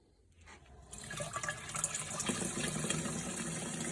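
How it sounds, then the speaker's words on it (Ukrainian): Water gushes steadily into a full sprayer tank for vineyard spraying, rising from a soft start to a constant, loud rushing pour. "І заливаю повний бак."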